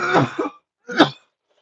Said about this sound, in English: that was a lot of coughing